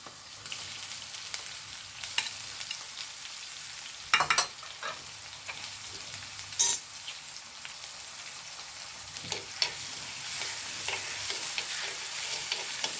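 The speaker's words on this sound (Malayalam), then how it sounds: "ഉപ്പേരിൻ്റെ എണ്ണ ചൂട് ഓയിൽ ചൂടായിക്കുന്നു ഇനി ഇതിലേക്ക് ഞാൻ വെളുത്തുള്ളിയാണ് ആദ്യം എടുത്തു കൊടുക്കുന്നത്" Garlic sizzles and fries in hot oil at the start of an okra stir-fry, a steady bright crackle with occasional louder stirring scrapes, close and alone.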